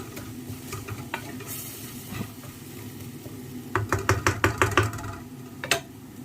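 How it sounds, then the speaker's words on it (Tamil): Egg curry masala being stirred in a pan as coconut milk goes in, with a soft sizzle under a run of sharp spoon-against-pan knocks in quick succession near the end. "நம்ம இந்த இதில் தான் தேங்காய் பால் ஊற்றுறோம்"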